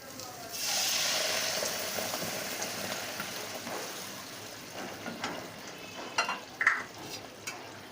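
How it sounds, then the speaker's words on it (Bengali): Hilsa fish curry with potato and eggplant bubbles and sizzles in a pan after water is added, making a steady soft hiss that fades slightly, with a few small pops and clinks near the end. "সেজন্য কিছুটা জল দিয়ে ভালো করে ফুটিয়ে নেব"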